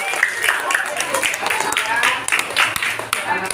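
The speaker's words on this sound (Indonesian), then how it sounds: "tepuk tangan" Children clap together in a classroom during a science lesson, a dense, steady patter of small hands that runs for a few seconds at moderate loudness with some voices mixed in.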